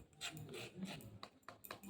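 Crispy fried pirukiya pastries, a Holi special sweet, crunching in a few quick raspy bursts, close and fairly faint, with no talking.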